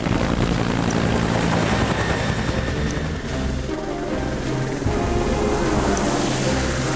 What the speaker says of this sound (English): That's it, come in a helicopter